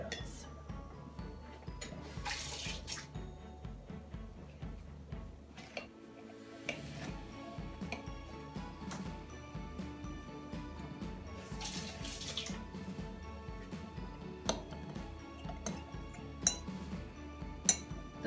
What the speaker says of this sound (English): between each cup, we're going to wash off the spoons.